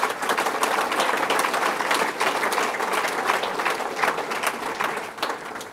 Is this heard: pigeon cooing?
no